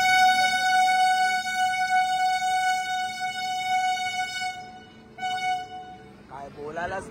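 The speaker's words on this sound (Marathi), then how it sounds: "ट्रेनचा आवाज आला." A long, sustained train horn blares loud and steady from aboard a moving passenger train on the Mumbai to Lucknow route, then cuts out near the end as a voice briefly comes in.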